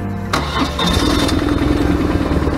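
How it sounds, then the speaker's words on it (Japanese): A BMW R1100R motorcycle engine cranks and catches close by, the starter whir giving way to a loud, steady, rumbling idle that continues to the end. "エンジンスタート、"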